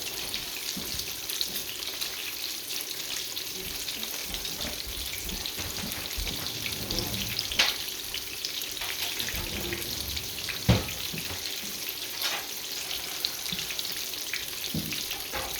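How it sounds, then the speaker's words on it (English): Oil sizzles and crackles steadily as green tomato slices fry in a pan, a constant hiss with occasional louder pops and spatters, no voices. "You can just do a live video of stuff frying."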